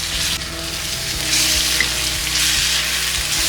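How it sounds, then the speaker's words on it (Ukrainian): Oil sizzles and crackles loudly and steadily in a pan as onions fry for borscht dressing, with a low hum underneath and no talking. "Треба підсмажити цибулю."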